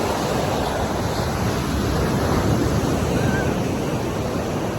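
Strong sea waves roll onto the beach at Agno, Pangasinan, a steady, loud roar of surf and wash that fills the whole stretch without a break, with some wind buffeting in the background.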